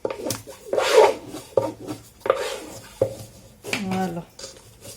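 A bone folder rubs and presses glued paper onto a wooden book cover in a craft project, giving several short scraping and rubbing strokes with soft taps, close and moderately loud, with no talking.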